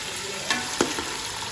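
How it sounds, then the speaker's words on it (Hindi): Chicken sizzles steadily in a hot pan, with a few short scraping stir strokes breaking through the constant frying hiss. "ये जो चिकन मैंने ऐड किया था वो अच्छी तरह से इसमें फ्राई हो चुका है"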